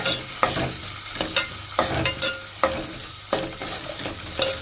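Onions and green chillies sauté in a pan for a Kerala-style avial, sizzling steadily while a spoon stirs and scrapes through them every second or so, close and without speech.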